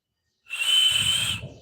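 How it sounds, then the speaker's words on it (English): A person whistling a single sustained, steady high note as a stroke rehabilitation exercise, close and fairly loud, alone after a short silence, with a faint low rumble joining partway through. "The whistle sound should come."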